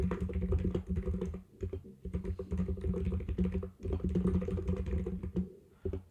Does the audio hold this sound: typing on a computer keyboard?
yes